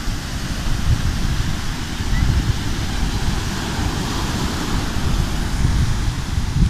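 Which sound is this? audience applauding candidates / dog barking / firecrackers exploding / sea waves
sea waves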